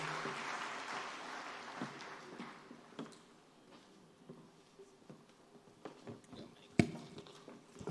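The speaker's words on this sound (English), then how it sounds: "please, a round of applause for Dahiru." Applause at an official National Teachers' Summit ceremony in Abuja for a special needs teacher, starting as a dense roomful of clapping and thinning over several seconds into scattered claps and stray noises.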